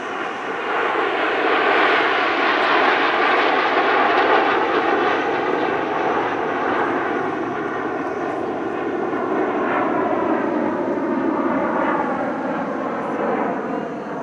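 Seven Fursan Al Emarat jets fly a formation aerobatic display at an airshow, a loud, continuous jet roar rising and falling as the formation passes, with no speech.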